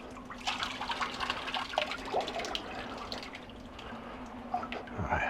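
Water trickles and drains steadily from a shower pipe aboard a narrowboat, a continuous close wash of dripping and splashing with a low hum underneath.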